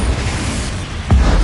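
Bombarda spell blast in Hogwarts Legacy, a loud short boom with a sharp burst near the end over a dense rumbling background.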